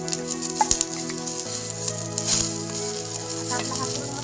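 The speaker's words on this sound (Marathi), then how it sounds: "तर मी यामध्ये आता बाकीचे मसाले घालत आहे, ते पण छानपैकी भाजायचे आहे।" Spices and garlic roast in a pan for a Marathi kathachi amti masala, giving a steady close sizzle with faint scraping stirs and a low background hum.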